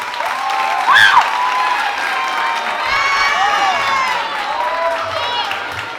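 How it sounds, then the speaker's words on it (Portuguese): Audience clapping and cheering at a dance-theatre performance: dense, close applause with shrill whistles and whoops rising over it, surging briefly near the start and again midway. "se puder rolar uma salva de palmas"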